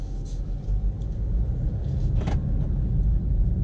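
Steady low engine rumble of a BMW 125d diesel pulling away, with a continuous road drone and a few faint higher noises over it.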